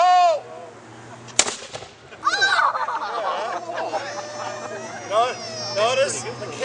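A small replica Civil War cannon, lit with a match, fires with a single sharp boom and a short rumble that dies away, while people talk and call out before and after the shot.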